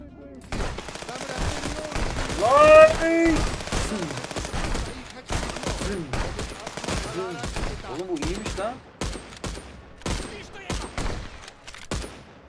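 Gunfire in the Contraband Police game, a string of loud, sharp single shots at an irregular pace, with someone talking between some of them.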